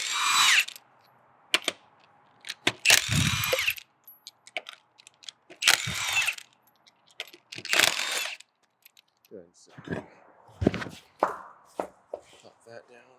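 A half-inch drive impact gun with a 19mm socket removes a UTV wheel in several loud, close bursts of rattling hammering, separated by pauses, with someone talking between them.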